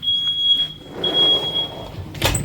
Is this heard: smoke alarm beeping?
yes